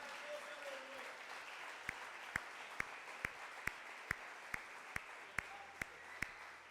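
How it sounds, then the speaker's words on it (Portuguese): A church congregation applauds, a wide, even wash of clapping with a few louder rhythmic claps on top that keep a steady beat, heard from a distance. "Dá uma bela salva de palmas a Jesus."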